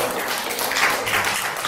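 Applause from a church congregation during a sermon, a dense, steady wash of clapping that carries fairly loud and unbroken through the whole moment.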